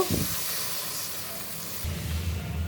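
Water poured into a hot pan of cooked-down spice masala with green chilies and salt for a fish curry gives a steady, close hiss of steam that carries through the whole moment with no talking.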